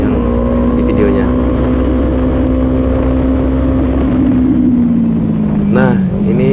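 A motorcycle ridden at speed, heard from inside an AGV Corsa R Pol Espargaro 2016 replica helmet: a loud, constant roar of engine and wind with a slowly shifting engine pitch, and a voice briefly audible near the end.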